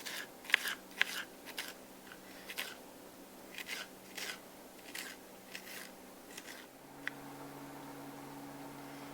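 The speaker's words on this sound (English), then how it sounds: "Cut them julienne first, and then I'm going to finely dice." Knife finely dicing jalapeños on a cutting board, a series of quiet, crisp chopping crunches in short irregular bursts, close and faint, with a low hum entering near the end.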